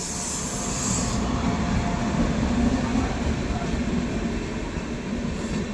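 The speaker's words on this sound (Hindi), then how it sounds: "कोरबा अमृतसर छत्तीसगढ़ एक्सप्रेस, छाता स्टेशन पे आती हुई। WAP7 के साथ।" The Korba–Amritsar Chhattisgarh Express, hauled by a WAP7 electric locomotive, arrives at Chhata station in a loud, continuous rumble of rolling coaches and wheels that lasts the whole stretch.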